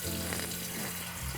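Steady broadband rush of water pouring from a tap, continuous and fairly close, with a low hum underneath and no voices.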